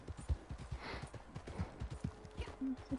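Horse hooves clip-clop at a steady walking rhythm in Red Dead Online, close and moderately loud, with a faint snort near the end.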